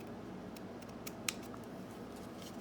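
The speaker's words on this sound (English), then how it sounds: "I am going to trim these little edges off" Scissors trim the edges of paper for a Halloween junk journal, giving a few soft close snips with one sharper cut, quiet over a low room hum.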